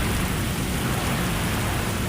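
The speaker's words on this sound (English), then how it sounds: "But the torrential rain may have made the largest impact." Torrential rain from a storm in central Nebraska roars in a loud, dense wash of noise with a deep rumbling undertone, continuous throughout with no talking.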